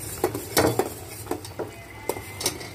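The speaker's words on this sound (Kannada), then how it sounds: "ಸ್ಟವ್ ಮೇಲೆ ಇಟ್ಟು ಕೈ ಆಡಿಸ್ತಾ ಇರಬೇಕು" Rice flour in water is stirred in a pan on the stove for jangiri, giving close, irregular scraping clinks of a spoon against the pan, about eight distinct strokes with quiet pauses between.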